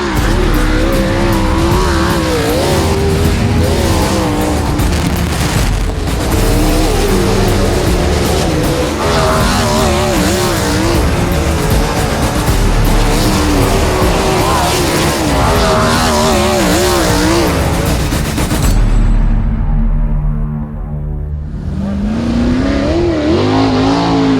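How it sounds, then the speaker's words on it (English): Dirt-track sprint cars roar around a racetrack at high speed, engines screaming and revving loudly and continuously, with passing cars swelling and fading before a brief drop near the end. "You're looking at a car that goes around a track in 9 seconds."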